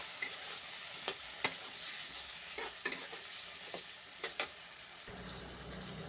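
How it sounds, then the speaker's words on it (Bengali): Prawns frying in a pan with spices, sizzling steadily with a few sharp crackling pops and stirring scrapes, close and fairly quiet with no talking. "চলো চিংড়িটা এবার ভেজে নিই, চিংড়ি মাছটা ভাজা বাকি আছে"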